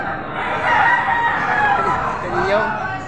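A rooster crows amid the crowd noise of a busy livestock auction market in Padre Garcia, Batangas, its drawn-out call rising over steady background chatter and bustle, close and fairly loud.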